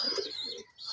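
A homing pigeon in the Philippines gives a short, soft coo close by, with faint chirps around it in an otherwise quiet moment.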